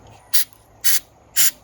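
Aerosol cleaner sprayed inside a Jeep Grand Cherokee thermostat housing part: three short, evenly spaced hissing bursts, close and crisp, with quiet gaps between.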